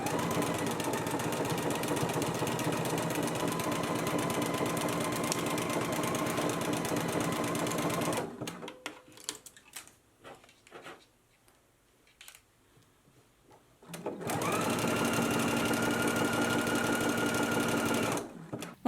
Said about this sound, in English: we can go to the machine and stitch it in place